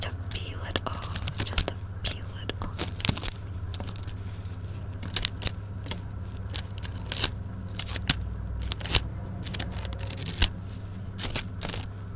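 A close, quiet surgery roleplay: sticky tearing, scraping and crinkling while a membrane is peeled off, in irregular bursts of small crisp clicks over a soft low hum.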